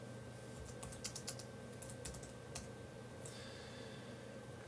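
A computer keyboard is typed on in short clustered bursts of quiet key clicks, faint over a steady room hum, with a brief rustle near the end.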